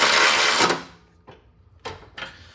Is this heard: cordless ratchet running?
yes